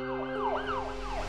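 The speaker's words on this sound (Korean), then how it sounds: "앰뷸런스야. 구급차." An ambulance siren wails on a Korean road, sweeping up and down in repeated rising-falling cycles, steady and fairly close over low traffic rumble.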